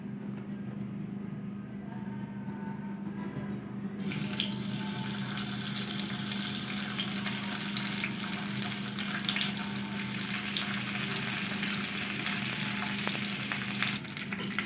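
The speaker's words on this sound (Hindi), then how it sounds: "अब हम चिकन को भून लेंगे।" Chicken pieces sizzling and frying in a pan for Arabian chicken kabsa, a steady bright crackle that jumps louder after a few seconds and keeps going without pause, close and clear with no talking.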